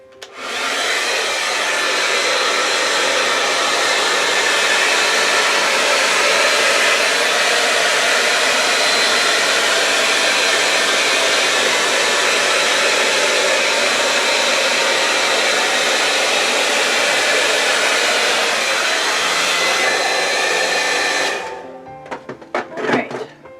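A hair dryer blows steadily and loudly for about twenty seconds to blow out a piece of craftwork, then cuts off, leaving a few faint clatters of handling.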